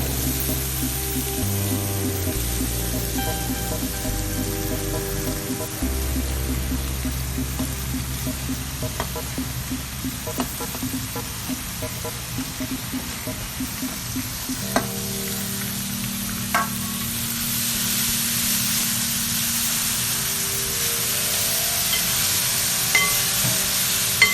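Chopped onions dropped into hot oil in a pan for Kerala-style Kuttanad duck curry, a steady loud sizzle with frequent stirring scrapes and clinks of a spoon throughout, no talking.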